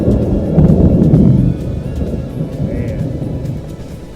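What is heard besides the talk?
thunderstorm with thunder and rain in mountains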